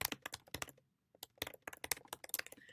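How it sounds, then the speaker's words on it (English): Fast typing on a computer keyboard, a close, crisp patter of key clicks in bursts with one short pause, with no talking. "I can't talk and type at the same time."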